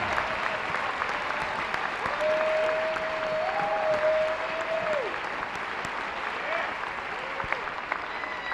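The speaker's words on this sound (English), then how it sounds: "Thunder fans, let's give Anajuan J. Spencer one more round of applause." A large crowd of Thunder fans at a North Central vs Wheaton game gives a sustained round of applause, a dense, even roar of clapping with a faint steady tone underneath.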